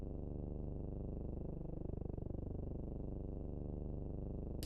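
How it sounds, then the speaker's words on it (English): A cat purrs steadily and close by, a low continuous rhythmic rumble that runs unbroken throughout with no talk over it. "It sounds like he's purring right now."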